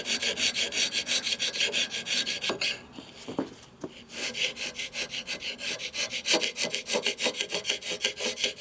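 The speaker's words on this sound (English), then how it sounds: "This a carbide scraper, does not remove metal. It takes off crud." A carbide scraper scraping crud off old 45ci WL Servi-Car motorcycle cylinders, giving loud, rhythmic rasping strokes with a short break of lighter scraping and clicks partway through.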